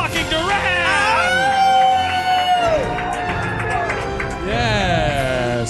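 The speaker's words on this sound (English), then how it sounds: "a round of applause for the man, the myth, the legend, Elvis motherfucking Duran" A live audience cheers and whoops for a guest on a talk show, loud and overlapping with an excited host's voice carrying over the crowd noise.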